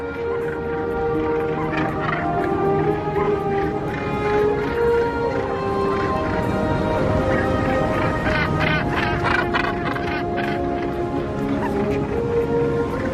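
A colony of North Atlantic gannets, large seabirds with a 1.8-meter wingspan, keeps up a dense, continuous chorus of harsh overlapping calls, loud and steady throughout with no pauses.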